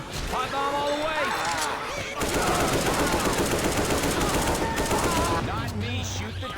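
Sustained rapid automatic gunfire from a Left 4 Dead 2 survival match at the Dark Carnival stadium gate, loud and continuous for several seconds, with shouted voices over the shooting.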